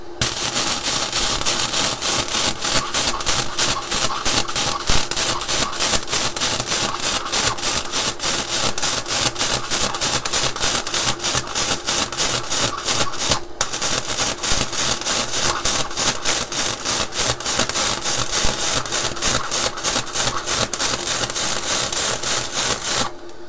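Topshak 250A multiprocess synergic welder running at maximum voltage, giving a loud, continuous crackling and sizzling arc with dense rapid pops that holds steady for over twenty seconds without talk.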